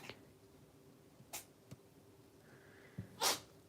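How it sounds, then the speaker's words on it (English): A few soft, brief sneezes from a dog somewhere off at a distance, scattered across an otherwise quiet stretch. "little Daisy sneezing there in the background again"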